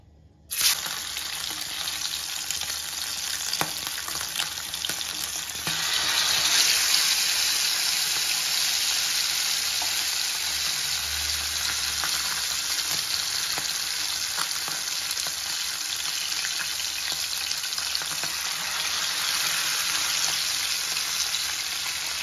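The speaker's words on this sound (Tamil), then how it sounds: "எண்ணெய் காஞ்சிடுச்சு, மீன் போட்டுக்கலாமா?" Fish frying in hot oil in a pan for a Tamil-style fish fry, a steady, loud sizzle with crackling spatter that swells briefly and then holds constant without talk.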